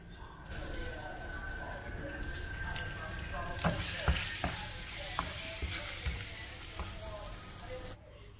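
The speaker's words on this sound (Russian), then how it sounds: "Дальше мы забрасываем с вами лук, тоже нарезанный довольно-таки крупно. И обжариваем лук." Onions sizzle steadily in a hot pan, with occasional clinks and scraping of stirring, while a person talks over the cooking.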